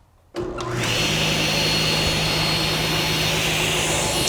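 A table saw motor switches on with a sudden roar and spins up within about half a second. It then keeps running at a loud, steady whine, close by.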